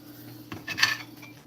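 Cutlery slicing into a Monte Cristo sandwich on a dish, one brief clink and scrape of metal against the plate, close and fairly clear over quiet background.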